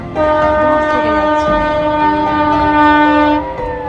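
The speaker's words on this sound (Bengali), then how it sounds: "ট্রেনটা" A train passes near the Khirai flower fields, its loud, steady horn-like tone sounding almost continuously for nearly four seconds over a rumbling rail background, with no talk.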